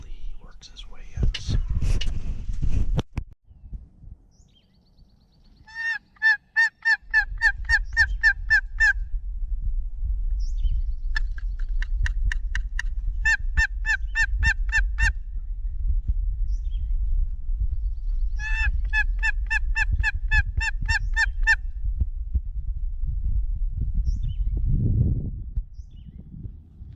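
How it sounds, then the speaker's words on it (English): A wild tom turkey in San Diego County gobbles at a distance in three clear rattling bursts, spaced several seconds apart over steady low wind rumble, with whispering near the start. "you guys could probably hear him gobbling in these clips"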